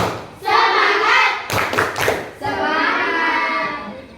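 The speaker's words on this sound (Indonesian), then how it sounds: "kita tepuk semangat dulu" A class of children doing a rhythmic spirit clap, with bursts of hand claps and thuds mixed with loud group chanting voices throughout.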